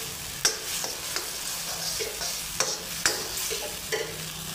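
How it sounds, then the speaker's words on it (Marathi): Paneer masala, already fried, being stirred and sautéed in a pan for Paneer Chatpati, with a steady low sizzle broken by repeated scraping strokes of a spoon against the pan, close and alone. "थोडा वेळच आपण याला परतवून घ्यायचं आहे"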